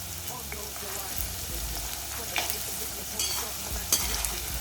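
Corn kernels deep-fry in hot oil for restaurant-style crispy corn, a dense close sizzle with popping spatters and occasional stirring knocks as they are turned.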